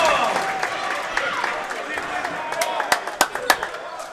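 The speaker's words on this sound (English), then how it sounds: "the crowd is cheering" Crowd at a varsity high school basketball game cheering steadily in a gym, with a sustained roar, scattered claps and sharp sneaker or ball thuds near the end, under an announcer's voice.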